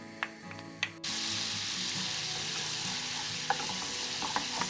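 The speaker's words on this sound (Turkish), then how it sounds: "Başta gösterdiğim tereyağını içine ekliyorum." Butter melts in a sauce pan on a stovetop, breaking into a loud, steady sizzle after a few soft clinks, with occasional utensil taps and stirring over the constant frying hiss.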